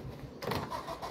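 Engine of a private open-top car in Mafia: Definitive Edition starting up, a short starter crank then a steady low idle rumble, close and moderately loud, with no talking.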